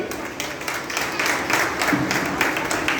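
A congregation claps together at a special prayer meeting held for a half-saree function, producing a steady, dense patter of many hands that continues for the full few seconds at a moderate level.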